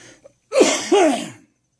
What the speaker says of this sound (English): Excuse me, I cough a lot.